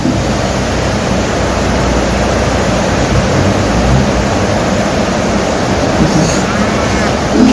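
Steady rain hisses in the background of a Bloxd.io game session, a dense broadband wash that holds level throughout with no breaks, heavy enough to resemble surf or wind.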